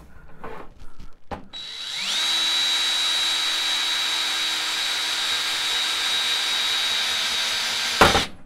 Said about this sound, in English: Okay, there's the drill.